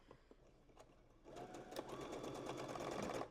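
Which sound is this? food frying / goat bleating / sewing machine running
sewing machine running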